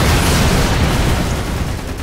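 A grenade blast in the multiplayer shooter Lost Planet 2, a loud, sustained low boom and rumble that fills the whole clip and slowly fades.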